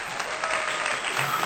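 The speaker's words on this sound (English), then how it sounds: "go ahead and clap that damn thing" Steady clapping from a small group fills a short stretch, even and continuous without any talking, as an audience applauds on cue at the start of a comic book discussion episode.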